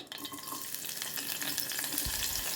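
Onions sizzling and frying in oil inside a pressure cooker for chicken, a steady crackling hiss that swells with a brief stir or toss near the end, close and continuous with no talking.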